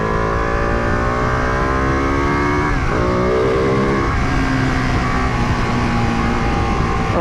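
A 2018 Ducati 959 Panigale accelerates hard on the road, engine note climbing steadily through the revs with a brief dip near three seconds, like a quick-shifted gear change, then rising again, loud and close throughout with wind noise and no talking.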